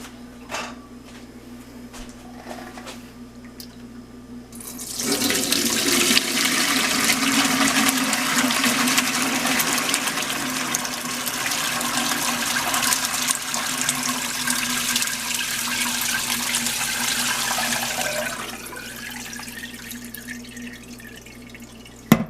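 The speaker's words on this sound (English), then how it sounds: "Now what I'm going to do now is strain the curds out of the whey." Whey and cheddar cheese curds pour through a metal colander, a steady rushing, splashing flow that starts suddenly and runs for about thirteen seconds before tapering into drips, close by with no talking.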